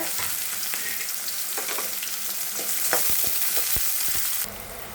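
Finely chopped shallots and onion sauté in oil for a squid thokku. A loud, dense sizzle runs throughout, with scattered spoon knocks and scrapes close by, and the frying drops slightly at the very end. No one talks.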